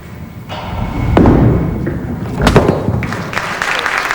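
A 5-pin bowling ball rolls down the lane in a televised semi-final match, a low rumble building before a loud crash into the pins, with crowd noise and commentary mixed in.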